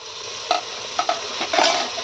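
Mixed vegetables are stirred into biryani masala in a pan, with a spoon scraping and knocking a few times over a steady background sizzle. Nobody speaks.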